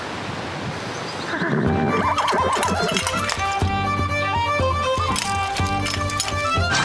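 A horse pulling a jaunting car in Killarney National Park whinnies loudly up close, with hoof and carriage noise underneath in a steady, busy outdoor mix.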